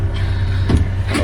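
A packed safari truck drives through a wild, remote Mozambique concession, its engine a steady low rumble with faint rattles on top, close and continuous.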